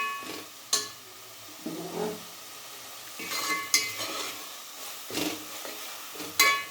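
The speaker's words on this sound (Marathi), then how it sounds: "आता सगळ्या पेस्ट चांगल्या परतून घ्यायचे" Spice paste of sesame, coriander and cumin, with onion and garlic, sautéing in oil in a pan: a soft sizzle is cut by a series of sharp spatula scrapes every second or so, close up, with no one speaking.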